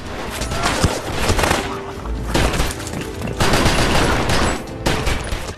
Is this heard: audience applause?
no